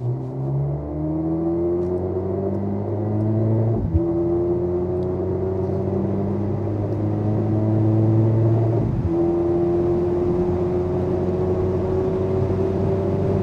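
A Mercedes-AMG SL43 accelerating hard on the Autobahn, its engine note climbing steadily through the gears with two brief dips at the shifts, a loud continuous drone alone with no talk.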